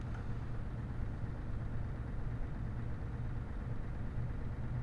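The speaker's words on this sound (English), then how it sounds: "this bloody truck sounds a bit sick" Truck engine idling low and steady in Euro Truck Simulator 2, sounding a bit sick, with a constant deep rumble and no change in pitch.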